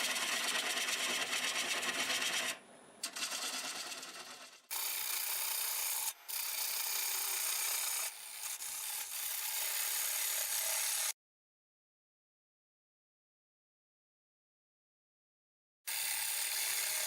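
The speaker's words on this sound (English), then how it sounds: "It's time to remove this tenon. I'm going to use a 1/2-inch bowl gouge." A 1/2-inch bowl gouge cuts the tenon off a large wooden bowl spinning on a lathe, giving a loud, steady scraping rasp in long bursts with brief breaks, then several seconds of silence before the cutting resumes.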